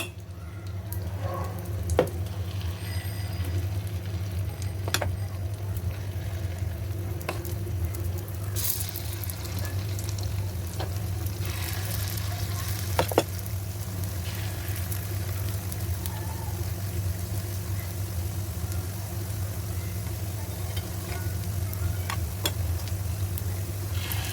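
Moong dal batter frying in a hot pan, a steady soft sizzle running evenly throughout with a few faint clicks and knocks from the pan or utensil.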